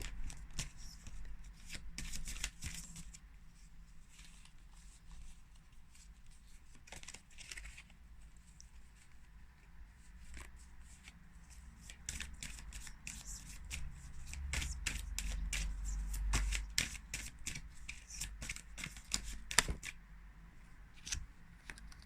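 Tarot cards being shuffled by hand in a close, quiet room. Many sharp riffling snaps and soft slides repeat in irregular bursts, growing somewhat busier toward the end, with a faint low background hum.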